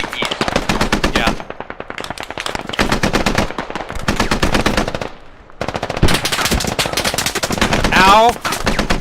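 Rapid bursts of automatic gunfire in an online multiplayer shooter game fill nearly the whole stretch, loud and continuous with brief gaps, while a player's voice talks over the shooting now and then.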